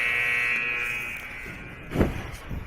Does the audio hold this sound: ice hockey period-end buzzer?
yes